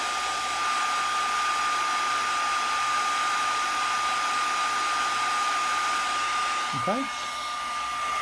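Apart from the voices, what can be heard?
heat tool blowing hot air to dry pigment ink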